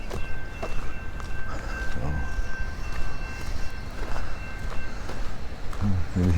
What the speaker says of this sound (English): So there's a train up here.